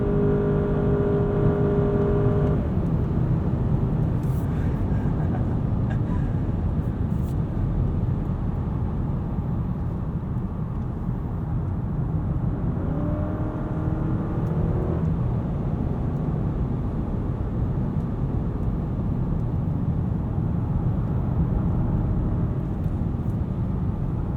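A 2023 Honda Accord pulls away from a stop, its steady engine and road roar filling the cabin continuously for the whole stretch without letup.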